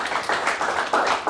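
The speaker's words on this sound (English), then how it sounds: "Round of applause for both teams here tonight" At a high school quiz bowl match between Roscommon and Cheboygan, a small audience claps for both teams, with distinct individual claps and pulsing bursts, brief and fairly close.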